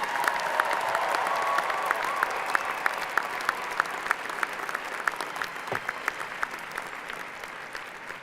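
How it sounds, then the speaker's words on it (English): A commencement audience applauding at a university graduation ceremony, with sustained, moderately distant clapping from a large crowd that tapers off toward the end. "Let's give your parents a round of applause,"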